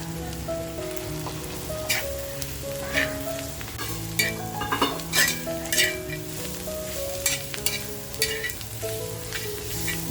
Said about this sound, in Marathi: हा जो आपण खरडा करून घेतलाय तोही तेलात टाकून फ्राय करून